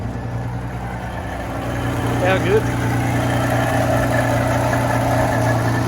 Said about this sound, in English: Got a few exhaust leaks through it.